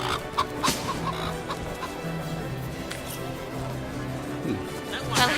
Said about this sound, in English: There are an awful lot of chickens around here.